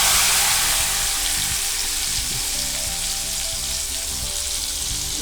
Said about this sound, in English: Hot oil and sizzling